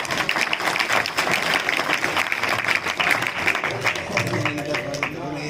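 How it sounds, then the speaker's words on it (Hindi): Audience applause at a gathering introducing revered Hindu saints, steady dense clapping throughout with murmuring voices and some talk mixed in underneath, tapering slightly near the end. "ताली कम बज रही है"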